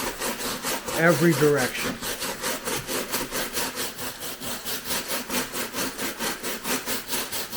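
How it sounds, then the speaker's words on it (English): Plastic bristle brush scrubbing a carved styrofoam granite rock surface on a model railroad layout: steady rhythmic back-and-forth rasping strokes, close and continuous, with a brief spoken remark early on. "come over the entire surface with a plastic bristle brush"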